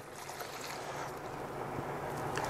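Liquid being poured off from washed yeast in a homebrewing setup, a continuous splashing, gurgling pour, close and steady, with no talk over it.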